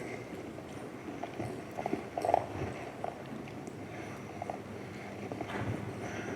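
Hooves of a young futurity horse walk and shift on arena dirt during cutting horse training with a cow at a ranch in Weatherford, giving soft, irregular clopping at moderate distance over low outdoor background.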